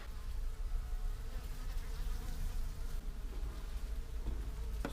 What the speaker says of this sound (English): but this is a lot of bees